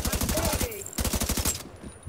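An SMG fires rapid automatic bursts in The Division 2, two quick strings of sharp, evenly spaced shots with a short gap between them, loud and close, while a voice speaks over them.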